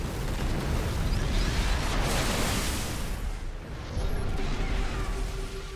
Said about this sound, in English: And Djrv is just bombing away with his stealth artillery